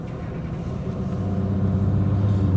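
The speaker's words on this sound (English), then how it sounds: "It's shaking. It's clearly got a misfire. Now we're going to drive down the road." A car with an engine misfire rolls down the road, giving a steady low rumble and drone that swells slightly louder as it goes, with no talking.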